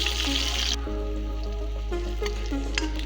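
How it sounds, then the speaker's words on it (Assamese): Onions frying in a pan with panch phoron give a steady, close sizzle that runs throughout, while faint stirring scrapes surface now and then. "এতিয়া পিঁয়াজখিনি দি লৈছোঁ মই। এইখিনি ৰঙচুৱা পৰালৈকে ভাজি ল'ম।"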